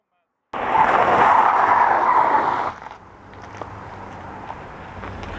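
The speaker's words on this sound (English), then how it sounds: "now it's time for the handbrake turn contest" A loud, harsh tire skid screeches for about two seconds during a handbrake turn in a 2020 Volkswagen T-Cross SUV, then drops away to a quieter rumble of the car and open-air background noise.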